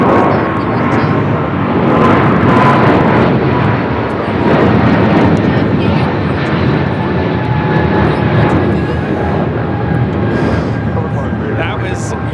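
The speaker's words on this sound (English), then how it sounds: "That was United Airlines 2614 taking off to Newark on a 777-200ER." A United Airlines Boeing 777-200ER jet takes off at LAX, its broad engine roar steady and loud throughout, with people talking over it.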